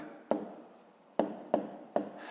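Numbers being written by hand during a math lesson, heard as four sharp, close taps of a pen against paper, each followed by a short scratchy stroke, in a quiet room.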